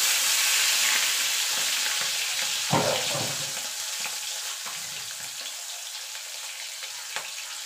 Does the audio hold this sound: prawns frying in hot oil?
yes